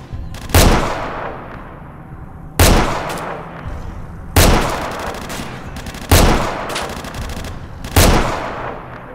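Gunshots in S.T.A.L.K.E.R. Shadow of Chernobyl, five loud, sharp single reports spaced about two seconds apart, each trailing into a fading echo, with no talk.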